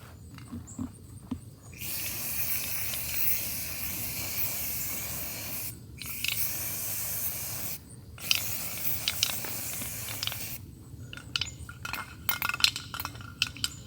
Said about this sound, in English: And I get to play with the pink spray paint.